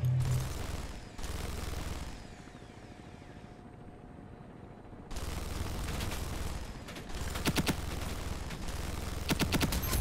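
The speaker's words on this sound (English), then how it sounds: "I guess he does have an LMG." Bursts of light machine gun fire in the shooter game Ironsight: rapid clattering volleys in separate loud stretches, with a quieter gap between them and sharp cracks near the end.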